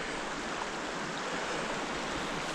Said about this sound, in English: This is a little creek.